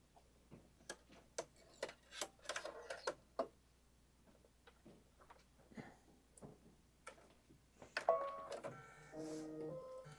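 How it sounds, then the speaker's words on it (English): An embroidery machine stitches a navy emblem in red thread, with quick repeated mechanical ticks and clicks in irregular bursts, quiet and close, ending in a brief whirring hum. "on your machine, it's going to stitch the center emblem of the navy"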